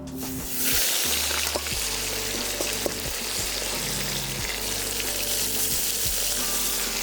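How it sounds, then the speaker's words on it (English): Beef searing in a hot kazan pot, a loud, continuous sizzle and crackle of meat frying in oil, close up with occasional stirring clinks. "So now we're gonna put that beef and give a good crust for the beef"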